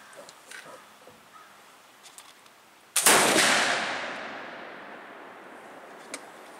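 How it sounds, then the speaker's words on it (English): A single loud flintlock rifle shot cracks during shooting practice at a wet Pennsylvania deer-season outing, followed by a long decaying rumble after a quiet stretch. "So we're gonna do some shooting here and just do some practice"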